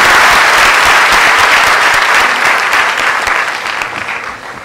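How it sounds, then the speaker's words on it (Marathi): Audience at a live interview session for SSC toppers in Pune applauding the students, loud, dense clapping from a crowd that holds steady and then slowly thins toward the end. "एकदा जोरदार टाळ्या झाल्या पाहिजे सगळ्या विद्यार्थ्यांसाठी"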